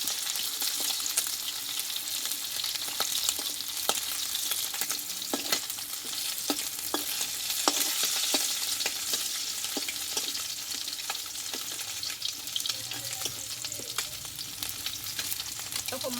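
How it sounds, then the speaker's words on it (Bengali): Oil sizzles and crackles steadily as tengra fish fries in a pan, with occasional sharp pops and light scraping, close and fairly quiet, no talking. "দেখো মাছগুলো কিন্তু ভাজা হয়ে গেছে"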